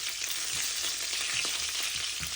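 Curry leaves, green chilies and a large onion sauté in hot oil with a steady, close sizzle and a few soft stirring clicks, no voices.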